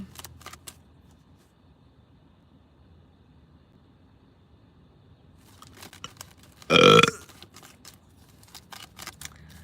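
A single loud, short burp stands out from a quiet room, close and distinct, with faint clicks and rustles before and after.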